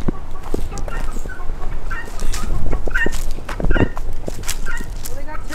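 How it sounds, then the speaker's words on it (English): Chickens cluck and call around an outdoor getaway spot, scattered short calls over a constant, noisy background with some voices and movement. "There's like chickens on this side and like the other side."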